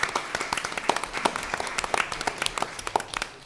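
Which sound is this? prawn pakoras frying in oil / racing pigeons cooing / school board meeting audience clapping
school board meeting audience clapping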